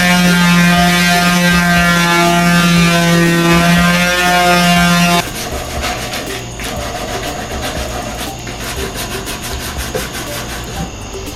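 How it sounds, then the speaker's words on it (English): An old desk with several layers of paint gets sanded. A loud, steady tonal whine runs for about five seconds, then gives way to a rougher continuous scraping, close and constant. "I'm going to sand this thing down because it's got a couple layers of paint on it already."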